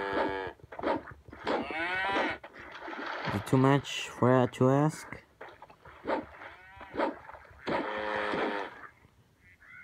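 Cow mooing in the video game Survival Craft, a few low lowing calls heard over and between continuous talk by a player.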